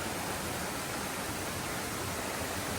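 A strong stream current rushes near a waterfall, making a constant, dense roar of water that stays even and loud throughout the short stretch.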